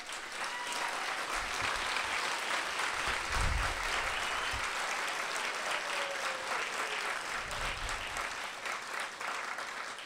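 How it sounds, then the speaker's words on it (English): An audience at a school commencement ceremony applauds, a steady, fairly distant wash of clapping that continues for the whole stretch, with brief low thumps underneath. "Applaud these people right now."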